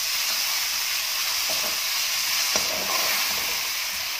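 Tomatoes, onions and green chillies fry with saag in a pan, giving a loud, continuous sizzle and hiss, with a few brief scraping stirs breaking through.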